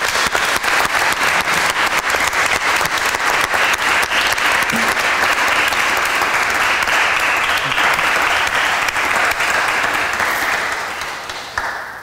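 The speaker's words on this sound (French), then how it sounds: "on va, je pense, applaudir le travail de Nick." Audience applause fills the room after a talk, dense and steady clapping from a sizeable crowd that carries on loudly before tapering off at the end.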